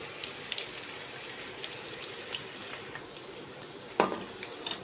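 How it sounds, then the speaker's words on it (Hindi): Chicken wings frying in hot oil give a steady, fairly quiet sizzling hiss with small crackles, and one sharper clatter near the end. "अभी ये फ्राई हो गए हैं तो इसको निकाल लेते हैं।"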